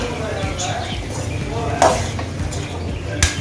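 A spoon stirs brinjal and drumstick pieces in a pan for a spicy tamarind gravy, giving soft scraping and clinking sounds with a couple of sharper knocks.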